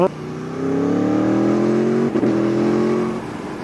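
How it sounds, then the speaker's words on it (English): A 2020 Aprilia Tuono motorcycle engine revs up in a rising, throaty whine, holds loud and close, dips briefly, then climbs again before easing off. "Nice noise out of that engine too."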